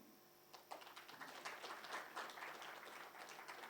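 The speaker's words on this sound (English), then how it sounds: "A round of applause for my entire team." An audience at a real estate company speech breaks into applause after a quiet start, with scattered claps that thicken into a brisk, fairly faint patter of clapping.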